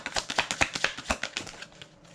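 A rapid series of soft papery riffles and taps as tarot cards are shuffled by hand nearby, quick and uneven, fading out toward the end.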